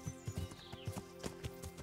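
Horse hooves clip-clop at a steady walking rhythm in the medieval game Kingdom Come: Deliverance, soft and fairly close, with no voices over them.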